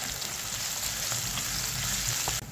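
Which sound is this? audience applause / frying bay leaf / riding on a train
frying bay leaf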